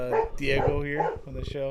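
Small dogs barking and yipping indoors in a room, with short sharp barks and whimpers mixed in close by while someone talks over them.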